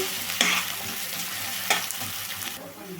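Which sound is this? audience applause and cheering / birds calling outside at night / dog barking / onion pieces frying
onion pieces frying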